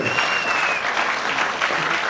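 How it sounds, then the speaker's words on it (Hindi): Applause from the audience at a Delhi business seminar: a steady wash of clapping from a crowd filling a hall, continuous and fairly loud throughout. "तालियों की आवाज कम है"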